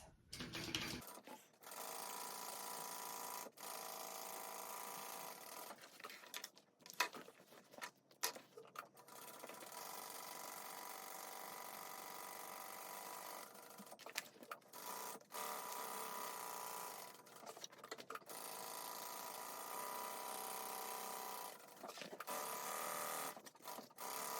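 A sewing machine basting clear vinyl on a crossbody bag, long steady runs of fast mechanical stitching close by, broken by short pauses between rows.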